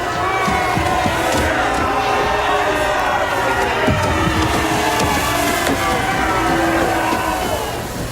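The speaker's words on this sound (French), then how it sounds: "Applaudissez-le." A dense audience at a staged wrestling event applauding and cheering for the wrestler Ethanator, with continuous loud crowd roar, whoops and shouts held steady throughout and close.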